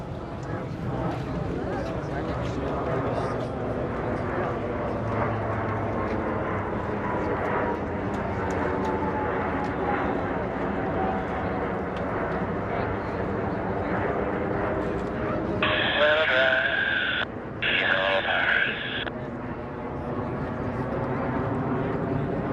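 US Navy Blue Angels jets flying in formation at the 2017 Millville Wheels and Wings Airshow, a steady, continuous jet engine roar throughout, with a narrator's voice speaking over it and a brief higher tone partway through.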